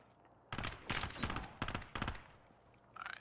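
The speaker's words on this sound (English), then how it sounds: "Oh, they're shooting at him." Bursts of automatic gunfire in Call of Duty: Modern Warfare, several loud rapid volleys with short gaps between them, nearby and without talk.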